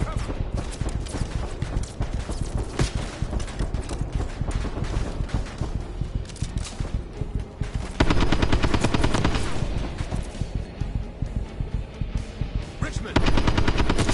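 Sustained machine gun fire rattles in the Call of Duty: Black Ops 6 campaign on veteran difficulty. Dense rapid bursts continue nearly the whole time and grow louder partway through, while a voice talks briefly over them.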